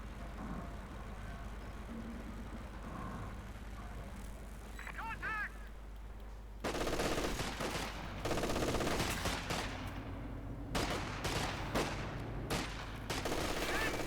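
Company of Heroes 2 infantry gunfire, Obersoldaten firing in battle: bursts of rapid shots and crackling volleys under a steady game ambience, with a commentator's voice talking over parts of it.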